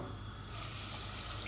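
A small glass of water pours onto sugar in a pan for a coconut caramel flan, a steady close splashing rush that swells halfway through and keeps going.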